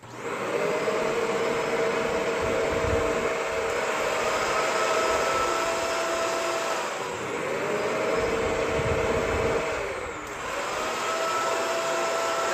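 An upright Shark vacuum cleaner with powered lift-away runs steadily on carpet with a loud motor whine and airy rush, its pitch dipping slightly a few times as it moves, no talking.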